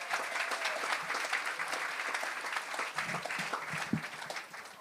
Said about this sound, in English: A round of applause for Uncle Michael, please.